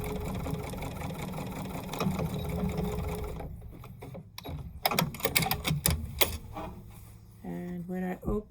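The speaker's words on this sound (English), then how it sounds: "Just sew a straight seam across the two pieces." Sewing machine running a straight seam across two quilt pieces, a steady close rattling hum for about three and a half seconds, then stopping, followed by fabric handling and a few clicks and brief machine bursts.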